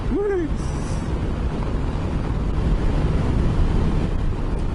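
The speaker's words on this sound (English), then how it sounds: "it is a pretty windy day" Steady, heavy wind roar buffeting the microphone while riding a motorcycle on a windy day, a constant low rushing blast with a brief whistling tone at the start.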